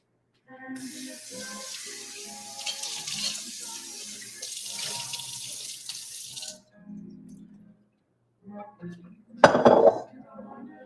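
Water runs from a kitchen tap as a bowl is rinsed, a steady broadband splash lasting several seconds, followed by quieter handling and a loud clunk of the bowl near the end.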